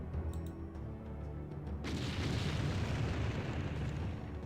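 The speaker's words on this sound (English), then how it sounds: "So we'll just go ahead and take it out with our artillery." Artillery fire in the strategy game Empire Earth booms out as a sudden broad blast after a quieter start, followed by a sustained rumbling roar with no voices.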